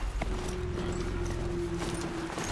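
Hooves of a machine horse-like mount clop at a steady trot in Horizon Zero Dawn, close and continuous, with a faint tonal hum underneath and no talk.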